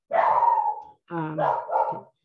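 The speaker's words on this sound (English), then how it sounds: "That's my dog barking" A pet dog barks indoors: one drawn-out bark, then two quicker ones, close and clear, with a short pause between.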